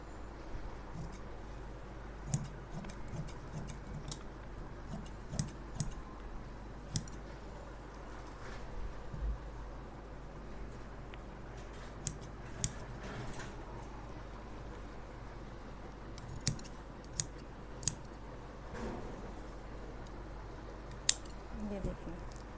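Scissors cutting fabric for a suit: faint, sparse snips and clicks scattered irregularly across a quiet room, with long gaps and a low steady background hum.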